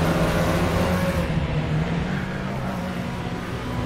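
A classic sports car engine revved near the top of its range in a VR racing game, a loud continuous droning roar that holds steady with a slight dip in pitch as it carries on.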